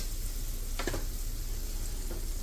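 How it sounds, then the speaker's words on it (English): Beef sautéing in a pan for Thai basil fried rice gives a steady close sizzle, with a couple of brief stirring scrapes partway through and no talk. "the first thing that we're going to do is we're going to saute our beef and then set them to the side"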